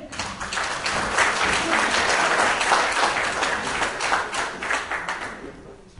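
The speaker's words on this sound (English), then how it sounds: "a round of applause for Nic" Conference audience applauding a presenter named Nic at an innovation event: a moderate round of many hands clapping, swelling early, holding steady, then tapering off near the end.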